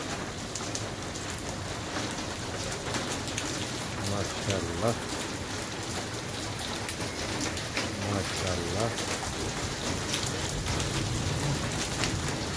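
Steady rain pours down at night in Lahore, a dense continuous hiss with pattering drops on surfaces, while someone talks over it and birds coo faintly in the background.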